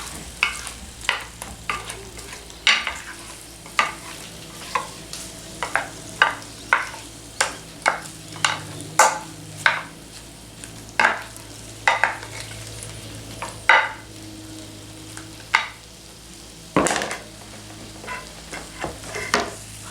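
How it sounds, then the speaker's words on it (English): Honey roasted potatoes stirred around in a pan, with a long series of regular sharp scraping and clinking strokes of a utensil against metal over a quiet sizzling bed, close and distinct. "I'm going to stir these around one more time and then cover them up"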